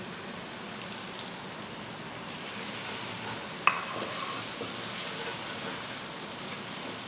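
Whole spices sizzling in hot oil in a pan for masala moong daal, giving a steady crackling fry with one sharp pop midway, close up, with no talking.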